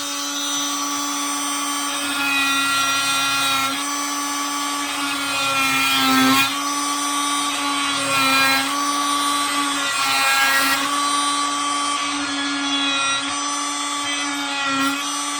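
A damaged sewage pipe is cut off during a repair with a power tool, which runs as a steady, loud whine with brief surges as it bites, continuous for the whole stretch, with no talk.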